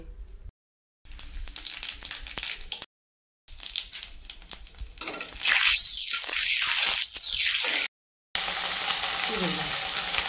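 Dried red chili, a bay leaf and cumin seeds sizzling in hot oil in a pan, crackling and spitting in bursts broken by short silent gaps, close and fairly loud.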